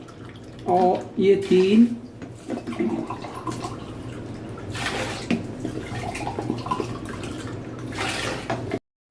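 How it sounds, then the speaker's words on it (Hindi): Water is poured steadily into a cooking pot for chicken yakhni pulao, a continuous splashing pour that runs under someone speaking in Hindi. "मैं पानी डालूंगा, मेरे 4 गिलास चावल है, डबल पानी डालूंगा।"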